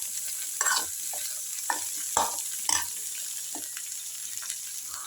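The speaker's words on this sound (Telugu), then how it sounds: "పచ్చిమిర్చి వేగాక పచ్చిమిర్చి వేగుతున్నాయి. ఇప్పుడు కొబ్బరి వేసేద్దాం." Green chillies and grated coconut fry in hot oil, a steady close sizzle broken by several sharp scraping stirs of a spatula in the pan, with no voices.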